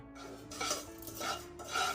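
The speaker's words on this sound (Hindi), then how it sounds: "थोड़ा सा ठंडा हो जाए तब तक मैं सौंफ को एक छोटा सा विस्क देती हूँ" Fennel seeds being stirred and whisked in a pan after roasting, a close, rough scraping rasp in three or four rhythmic strokes, moderately quiet with no voices.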